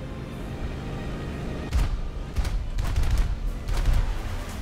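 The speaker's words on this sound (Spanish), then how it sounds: "El bombardero me está disparando." A bomber's defensive guns fire on the player's Su-9 jet in War Thunder: several short, rattling bursts of gunfire over a steady engine drone, growing louder and denser toward the middle.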